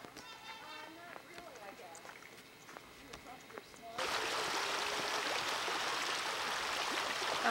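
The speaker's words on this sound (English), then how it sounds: "A babbling brook." A babbling brook in snowy Anchorage starts as faint trickling under scattered sounds. A louder, steady rush of flowing water then sets in for the rest of the clip.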